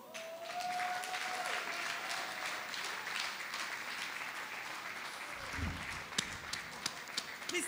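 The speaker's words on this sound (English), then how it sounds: "Please let's keep the applause going." An audience at the Nigerian Sports Award 2016 applauds through an award presentation, a dense sustained wash of clapping with a few louder near claps toward the end.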